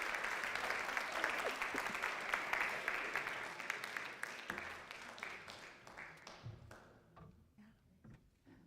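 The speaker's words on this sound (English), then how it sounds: "can we please give some applause," An audience claps to welcome performers coming up to play at a gathering, a steady dense wash of applause that thins out over several seconds into scattered claps and faint voices.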